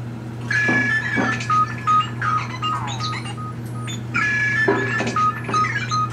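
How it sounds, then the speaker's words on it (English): A mobile phone rings in a workbench setting with an electronic melody of beeping tones, played twice in a row at moderate volume over a steady background hum. "my phone rang"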